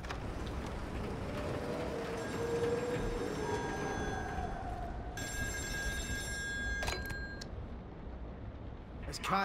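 A telephone rings on an oil rig in Still Wakes the Deep, its electronic bell trilling in two repeated bursts over a steady background of rig noise and rain, with speech around it.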